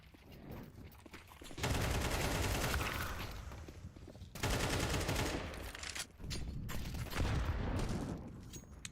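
Rapid gunfire crackles in long, dense bursts with a grenade blast in a competitive esports match from the IEM China qualifier, loud and continuous with brief pauses between volleys.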